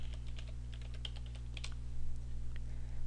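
Someone types a short command and password on a computer keyboard in a terminal, with quick soft clicks in a brief burst over a low steady electrical hum.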